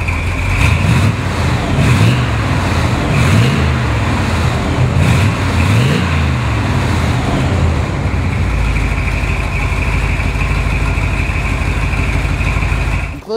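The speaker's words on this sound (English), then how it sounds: "How about I start it for you so you can hear what it sounds like?" A 1967 Chevrolet Corvette Stingray roadster engine turns over and settles into a loud, steady idle, with rhythmic low pulsing early on and a continuous rumble until it cuts off abruptly at the end.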